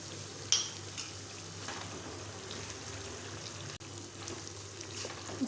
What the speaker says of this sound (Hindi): तो चिकन प्याज़ों के अंदर थोड़ा सा फ्राई हो गया।